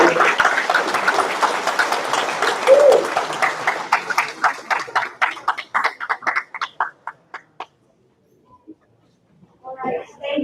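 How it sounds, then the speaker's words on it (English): A crowd's applause for a coastal summit panel, with voices mixed in, thinning out into scattered individual claps that fade to silence, then a brief burst of sound at the end. "big round of applause for our panelists."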